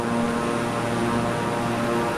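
Steady propeller drone of a Beechcraft King Air turboprop in Microsoft Flight Simulator 2020, flying near Dundee, Scotland; a continuous loud engine hum with tonal bands holds evenly throughout, with no voices.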